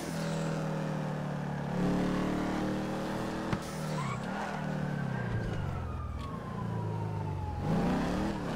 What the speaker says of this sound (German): Ich höre hier überall Cops.